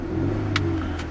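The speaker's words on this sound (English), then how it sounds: "I'm going to rev the engine" A 2012 Cadillac CTS Coupe engine runs with a steady, low droning hum that holds an even pitch throughout, with a couple of brief faint clicks over it.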